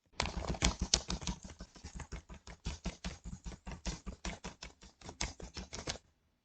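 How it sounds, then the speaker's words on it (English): Rapid computer keyboard clacking, a steady run of sharp keystrokes close to the mic for about six seconds, with no voice. "these clacks are literally pointless. They don't even line up with the words I'm typing in."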